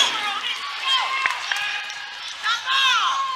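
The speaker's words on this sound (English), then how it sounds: "That's a nice cheer from the Fairfield faithful behind us." Home crowd at a Fairfield girls basketball game cheers and whoops steadily behind the court, a sustained wash of voices with a few louder swells near the end.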